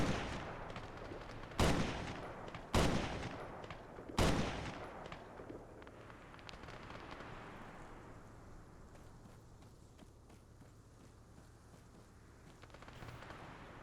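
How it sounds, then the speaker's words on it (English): Three sharp, loud gunshot bursts from a video-game firefight, aimed at enemy contacts west of a building, ring out in quick succession early on, each trailing into a long reverberant decay before a quieter, steady background. "I'm shooting at them."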